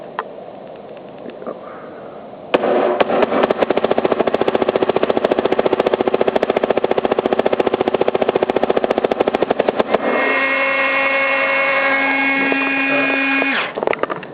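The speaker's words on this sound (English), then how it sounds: "I'm going to put on NXL Full Auto, and we're going to see how good it shoots" A Proto SLG paintball marker set to full auto fires a long, loud, close burst of rapid evenly spaced shots for several seconds, then a steady mechanical whine follows after the firing stops.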